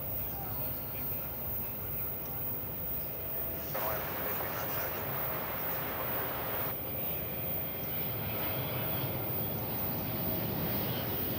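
An American Airlines jet takes off at Dallas/Fort Worth Airport, a steady broad roar of engine noise that swells partway through, heard at a distance and continuing under faint radio chatter.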